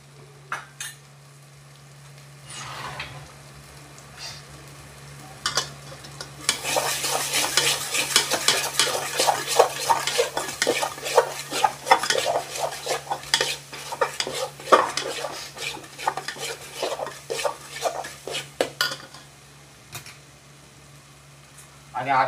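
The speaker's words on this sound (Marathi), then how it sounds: "आता चांगला आपला मसाला भाजून घेऊया" Masala being dry-roasted in a pan for a spicy goat-head (mundi) curry, with dense, steady scraping and clattering of a spoon against metal and a faint sizzle, starting sparse and then building into busy continuous stirring, alongside a constant low hum.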